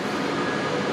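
An Avanti West Coast train at Preston station, a brief, steady, full rumble of rolling stock close by.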